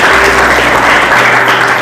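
Congregation at a Hindi-language church service led by a pastor claps together in steady, loud, dense applause that fills the space throughout.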